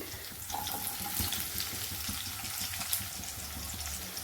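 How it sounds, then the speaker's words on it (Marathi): Two long-sliced onions frying in hot oil for a spicy tempered rice dish, giving a steady, close broadband sizzle with faint crackles and occasional stirring clinks, and no voices. "त्यानंतर आपण टाकणार आहोत कांदे। तर इथे मी 2 कांदे घेतले, ते लांब आकारामध्ये कट करून घेतलेले आहेत।"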